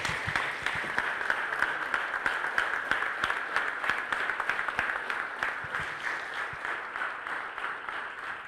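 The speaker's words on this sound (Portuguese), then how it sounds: "Aplauda ao Senhor, em nome de Jesus." A church congregation applauds the Lord together, a steady dense wash of clapping with sharp individual claps standing out, sustained and fairly loud throughout with no talk over it.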